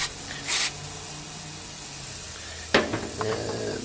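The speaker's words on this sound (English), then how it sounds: "Carb cleaner." Carb cleaner sprayed into a stuck fuel injector: a short hissing aerosol burst, then a sharp metallic click followed by a few faint clatters against a steady low background hum.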